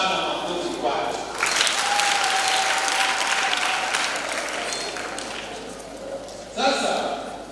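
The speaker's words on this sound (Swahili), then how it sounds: "Hapana, makofi kwake." Applause for a child at a first Holy Communion question-and-answer session for children in a parish in Arusha, a room of people clapping steadily for several seconds, fading, then a short fresh burst near the end, with an adult voice talking over it.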